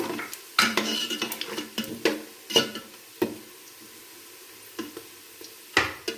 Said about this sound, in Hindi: और डालेंगे इसके अंदर गरम मसाला, फिर इसको फ्राई करेंगे।